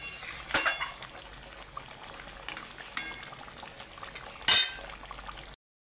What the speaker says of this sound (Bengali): এবার আমার মাংসটা ফুটে গেছে